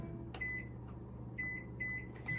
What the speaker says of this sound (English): I'm going to put this in the microwave for about 45 seconds just to heat the water